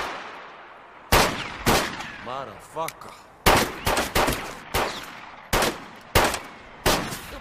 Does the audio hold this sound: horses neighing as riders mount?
no